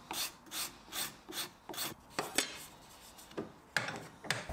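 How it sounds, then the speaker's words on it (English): A hand card scraper rasps across wooden faces of a small ring box to clean up grain tear-out, giving a series of short, even scraping strokes up close, with a few sharper, louder passes near the end. "I started using my card scraper instead just to clean up any tear out"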